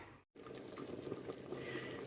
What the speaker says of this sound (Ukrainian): Ось так гарно кипить.